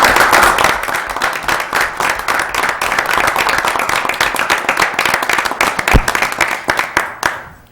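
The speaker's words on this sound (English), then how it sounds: "please join me, and let's give them a round of applause." Council meeting attendees applaud the fire department, a loud, dense clapping of many hands close by that stays steady, then thins and fades out near the end.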